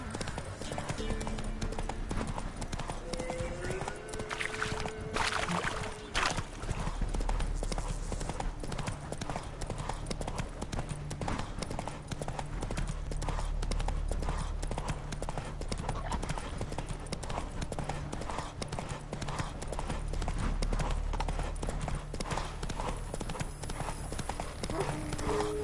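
Roach, the horse in The Witcher 3: Wild Hunt, gallops in a fast, steady clip-clop of hooves over a long stretch, with a voice speaking briefly near the start.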